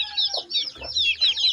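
Chickens clucking close by, a run of short, repeated clucks and squawks with a faint low hum underneath.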